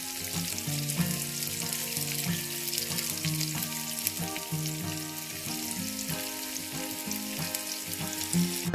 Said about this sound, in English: You need to let this fry for a few minutes until your onions